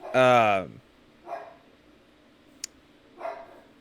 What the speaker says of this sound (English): Apologize if you hear my dog barking.